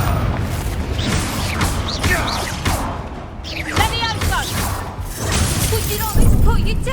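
In Hogwarts Legacy, the Confringo blasting spell sets off explosions during combat: repeated booming bursts and shattering crashes mixed with game effects and a voice.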